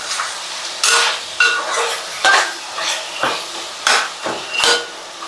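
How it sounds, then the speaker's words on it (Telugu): Chicken with curry leaves frying in oil while a utensil stirs and scrapes the pan, giving a close, loud run of metallic clinks and scrapes over a soft sizzle. "చూడండి, వేగతాం ఇలా వేగాలి బాగా."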